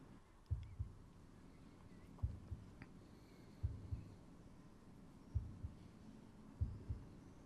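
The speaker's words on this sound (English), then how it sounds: "A heartbeat and a gentle, pearl-like rattling." A slow, steady heartbeat thumps alone in a quiet space, five evenly spaced double beats, soft and low, with a faint hum beneath.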